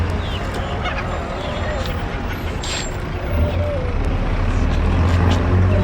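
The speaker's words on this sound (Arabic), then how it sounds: "دجاج بلدي يا جماعة اهو" Chickens, pigeons and other fowl at a bird market in Riyadh, with occasional clucks and bird calls mixed into a dense, noisy crowd hum and nearby traffic, as people talk close by.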